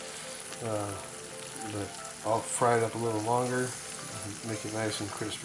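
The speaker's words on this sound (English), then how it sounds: "I'll fry it up a little longer" Hash browns fry in a pan with a steady, soft sizzle running underneath, continuous and close, while a person talks over it for most of the time.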